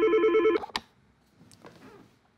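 A telephone rings for an incoming call, a loud electronic warbling trill that cuts off after about half a second, followed by a faint click and quiet room noise.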